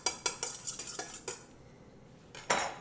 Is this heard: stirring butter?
yes